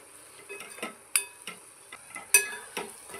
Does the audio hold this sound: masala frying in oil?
yes